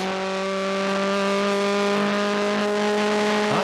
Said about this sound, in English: Right, we're on board with him now as he goes down the mine shaft. Listen to this motor, Dave.